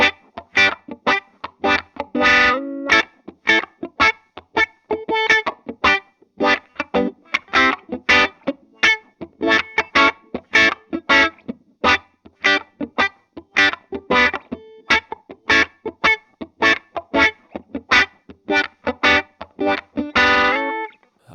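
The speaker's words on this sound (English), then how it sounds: "On the wah pedal, you can rock it forward as you play the chords," Short, choppy reggae chord stabs on electric guitar run through a 535Q wah pedal, with steady rhythmic skanks separated by silences and the tone sweeping as the pedal rocks, loud and close with no talking.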